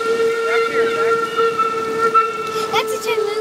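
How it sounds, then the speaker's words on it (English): A steam train's steady two-tone whistle holds throughout over constant hissing and rumble, fairly loud, with brief faint voices in the background, at Busch Gardens Williamsburg. "Look, there's a train."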